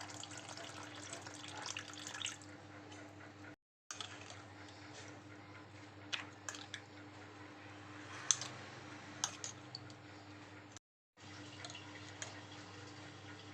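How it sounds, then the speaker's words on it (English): Boiled water is poured while cooking a dish with peanut powder, a steady faint running trickle with small drips and clicks over a low hum, close by and without voices. "Adding boiled water."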